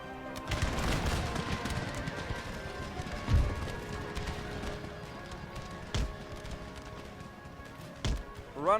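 Line infantry musket volleys in Empire Total War battle at Montreal, scattered sharp cracks and distant gunfire over a busy battlefield din with hoofbeat-like rustle, a few louder reports standing out.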